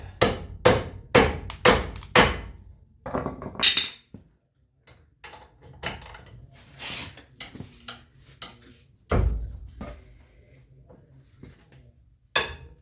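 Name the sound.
hammer tapping a socket onto a Dana 60 axle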